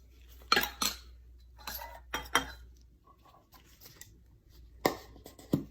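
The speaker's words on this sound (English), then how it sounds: "I just take the lids off of each one of them." Small 2-ounce metal tins have their lids pulled off one by one for a four-jar soap or lotion batch, giving several sharp metallic clinks and scrapes in short clusters, close up and moderately loud, with no talking.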